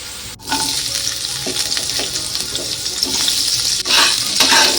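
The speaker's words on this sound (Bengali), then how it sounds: "এবারে আমি পটলগুলো ভেজে নেব।" Pointed gourd pieces fry in hot mustard oil in a wok, giving a loud, continuous sizzle with bursts of spattering and scraping stirs. A brief dip comes near the start and a louder surge near the end, with no speech.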